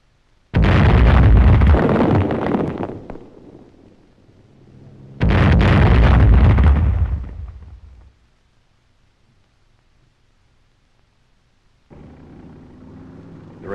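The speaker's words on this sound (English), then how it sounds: "German mines in the road lend their force to the explosion." Two massive booming explosions of German mines in a road, a few seconds apart, each with a long rumbling decay, followed by a fainter roar near the end.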